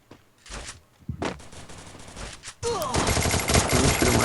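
Gunfire from the Free Fire video game comes in short sharp bursts, first a few separate volleys, then a sustained rapid string of shots that grows louder and denser toward the end.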